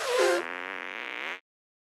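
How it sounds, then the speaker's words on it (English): Cartoonish fart attack from a South Park video game: a single long, loud, buzzing blast that starts with a sharp burst and holds a wavering tone for about a second before cutting off abruptly. "Try and fart on me."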